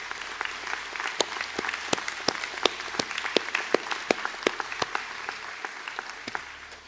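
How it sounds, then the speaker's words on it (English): Audience applause for quantity surveying graduates at a college conferring ceremony in Sligo, a steady, moderately dense run of claps from a large hall crowd with some sharper individual claps standing out. "please stand up and receive a round of applause from the audience"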